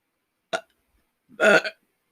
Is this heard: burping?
yes